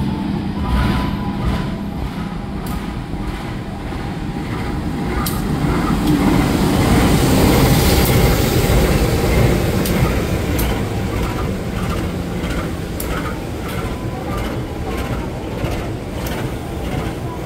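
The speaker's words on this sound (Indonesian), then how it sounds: "ini adalah kereta api Tawang Alun dari Ketapang Banyuwangi tujuan akhir Malang" The Tawang Alun passenger train from Ketapang Banyuwangi to Malang rolls past a station, a loud sustained rumble with rhythmic clacks of wheels over rail joints that swells and eases.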